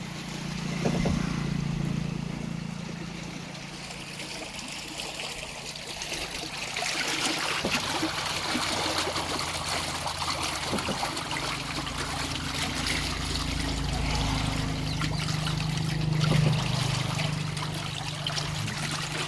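Water pours steadily into tanks for carrying live fish at a village stop, a continuous rushing splash with a low engine-like hum underneath, moderately distant.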